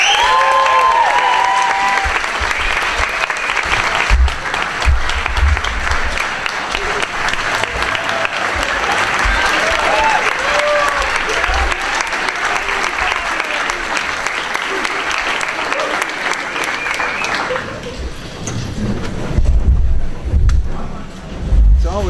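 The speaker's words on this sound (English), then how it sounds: "let's give Dr. Walters a big round of applause for doing that" An audience applauds Dr. Walters after a band performance, a loud sustained wash of clapping with scattered cheers that runs for about seventeen seconds before fading, followed by a few quieter moments with a voice.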